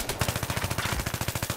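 Rapid full-auto AEK rifle fire in Battlefield 3, a fast, even burst of about twenty close, punchy shots that runs without a break.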